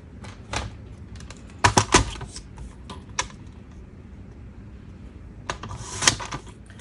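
Paper craft pieces for a spooky Halloween tuck spot being cut down, heard as a few sharp snips and rustles in short bursts spread through an otherwise quiet tabletop scene.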